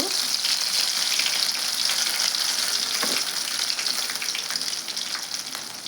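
Dried fish pakodi frying in very hot oil, a loud dense bubbling hiss that holds steady throughout and eases slightly toward the end, with no one speaking.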